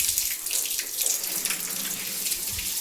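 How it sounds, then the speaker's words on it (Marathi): Water sprayed steadily onto freshly built masonry at a new construction site, a continuous hissing rush with no pauses, fairly close and alone without any voices. "बांधकामाला पाणी मारतोय आपण आता."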